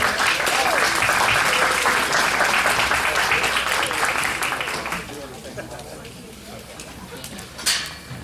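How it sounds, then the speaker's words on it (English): A crowd claps loudly and steadily for several seconds at a 4-H/FFA steer and market hog show, then the clapping thins out and fades, with some voices mixed in near the end. "Let's give him a round of applause."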